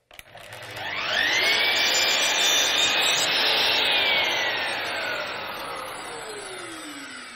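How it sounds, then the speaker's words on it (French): A Festool Symmetric SYM 70 miter saw cuts through wood molding, its motor spinning up to a loud, sustained whine that holds steady through the cut, then slowly winds down near the end. No one speaks. "Je scie maintenant l'autre côté."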